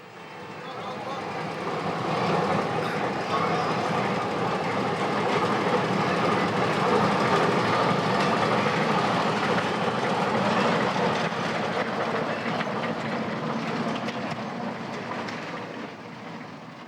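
Armour-plated rail scout cars run steadily along the line to Moulmein in Burma, a continuous broadband rumble and rattle that swells in the first seconds, then holds close and loud before easing slightly at the end.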